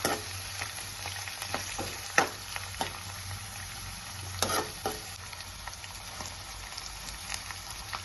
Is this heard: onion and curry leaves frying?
yes